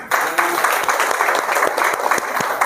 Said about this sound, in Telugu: నాకు మీ అందరికీ ఒకసారి క్లాప్స్ కొట్టుకోండి ఫస్ట్